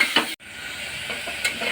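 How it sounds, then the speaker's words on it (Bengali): Meat frying in butter for chicken and vegetable soup is stirred in a pan, giving a soft steady sizzle with a couple of brief scraping strokes and one short cut in the sound. "এবার একটুখানি নাড়িয়ে নিই"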